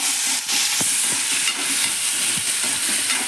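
Garlic, tomato and dried red chillies frying in a pan for an aubergine chutney, a loud dense sizzle with stirring scrapes and clatters through the short stretch, no voices.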